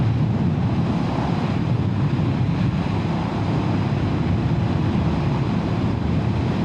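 Constant low wind roar buffeting a microphone while riding a Honda Hornet 750 motorcycle, dense and unbroken, with no voices.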